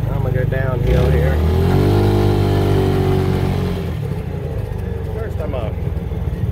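A Bighorn PowerMax 30 engine labors steadily up a small incline, a loud continuous mid-pitched drone that rises in pitch and then settles, close and persistent throughout.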